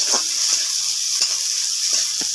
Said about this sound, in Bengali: এটা আমি পুরো লাল লাল করে ভেজে নেব